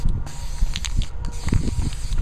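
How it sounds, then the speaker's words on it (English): A shaken spray paint can hisses in short repeated bursts onto the raised areas of a vintage mirror frame, close up and moderately loud, with no voices. "I'm only going to spray these areas that are sticking out"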